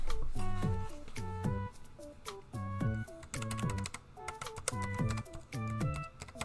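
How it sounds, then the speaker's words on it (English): Bursts of clacky mechanical keyboard typing, quick uneven keystrokes in short runs with brief pauses between, close and crisp. "What do you think of the chonker keyboard, chat?"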